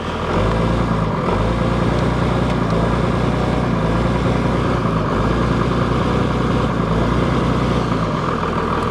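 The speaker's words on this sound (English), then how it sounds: "So let's give it a bit of gas and find out what it sounds like." A 2002 Dodge Ram 3500 dually diesel engine runs with a dense, low, continuous rumble, slight rises in pitch suggesting gentle throttle, loud and steady with no voices.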